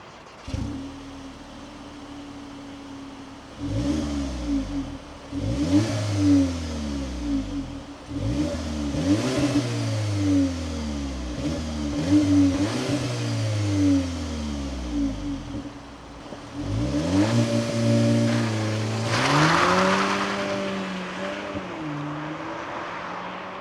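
2024 VW Polo GTI with the 2.0 TSI engine revving repeatedly from a steady idle in a series of sharp blips that rise and fall, followed by a longer sustained climb in revs.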